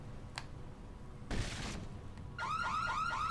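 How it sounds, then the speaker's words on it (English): A car alarm goes off in the zombie video game Dead Island, a loud warbling, repeating electronic tone that starts near the end, preceded by a short burst of crashing noise over low background rumble. "Alarms!"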